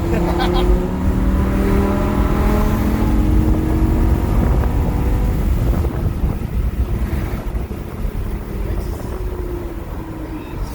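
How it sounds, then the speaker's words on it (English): A Lamborghini Gallardo Final Edition engine drones and rises in pitch while driving, heard from inside the car under heavy wind rush, with people talking over it. "You're driving a Lamborghini"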